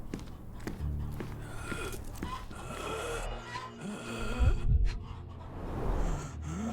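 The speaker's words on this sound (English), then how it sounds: "He has trouble catching his breath." A man struggling for breath in the Sherlock Holmes Chapter One game: ragged, wheezing gasps and rasping inhales, with a heavier choking snort partway through, close and continuous.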